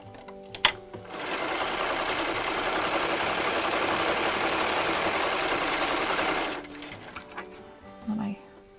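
A home sewing machine runs steadily for about six seconds stitching a quarter-inch patchwork seam for quilt blocks, a continuous mid-pitched whir, fairly close, with faint clicks and handling noise before and after.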